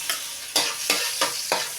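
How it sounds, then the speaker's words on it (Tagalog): Garlic being sautéed in oil in a pan for a sweet and sour fish sauce: five rhythmic stirring scrapes over a steady close sizzle, with no talking. "Okay, gisa tayo sa bawang. Gisa-gisa lang ulit."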